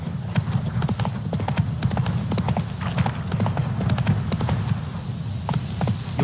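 Roach, a horse in The Witcher 3, clip-clops along in a steady rhythmic stream of close, distinct hoof strikes over a low continuous rumble.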